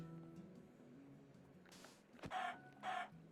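Minecraft chicken giving a couple of short clucks near the end, faint and in-game, after a quiet stretch of low background hum.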